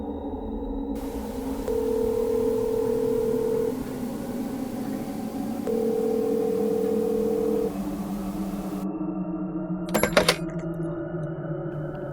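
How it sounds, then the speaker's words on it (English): A phone line carries a faint steady low hum, broken by two long flat electronic tones of about two seconds each, then a short burst of clicks and rattle near the end, as a call to 911 is placed. "Dialing 911, I placed the phone to my ear."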